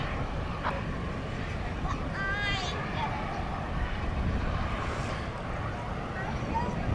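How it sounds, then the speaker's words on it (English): An Airbus A380 super jumbo taking off at night at DFW Airport: a broad, steady roar of jet engines fills the whole stretch, with a voice faintly audible underneath. "So that is the first of 2 Super Jumbos to take off here just before 8 p.m."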